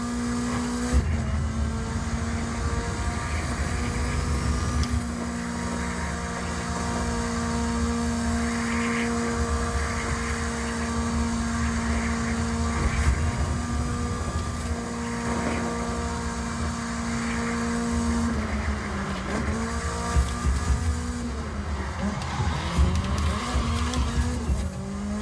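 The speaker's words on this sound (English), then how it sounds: "Kick it sideways, get your drift going right here." Racing sim car drifting sideways on a TMX Pro wheel setup, engine droning steadily throughout with tire squeal and skidding rising near the end, loud and continuous with no talk.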